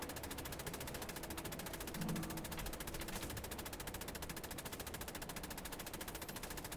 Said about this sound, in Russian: Этот придурок так и будет там бесконечно стрелять?